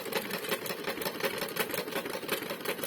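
Toy hoover running with damp bedding inside, a fast, steady mechanical whirring and rattling that stays fairly faint and continuous throughout, with no voices.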